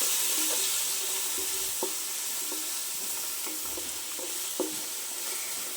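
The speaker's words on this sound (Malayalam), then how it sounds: "നന്നായിട്ടൊന്ന് ഇളക്കി കൊടുക്കാം." Fried rice is stirred in a hot pan, a steady broadband sizzle with scattered scraping and clinking taps of the spoon against the metal, close and continuous, with no voices.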